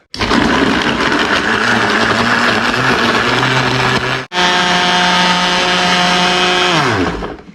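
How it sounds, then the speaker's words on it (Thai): A blender whirs steadily and loudly as it purées fresh milk and salted eggs for a lava-custard bun filling, cutting out briefly midway before roaring again and winding down to a stop. "เราก็จะปั่น นมกับไข่เค็มนี่ก่อนนะฮะ"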